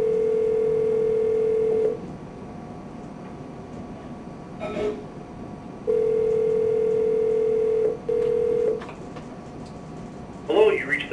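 A telephone call is placed, with long steady tones broken by silent gaps and a few short dialing beeps. Brief clicks and rustles fall between the tones, and a faint burst of sound comes at the end.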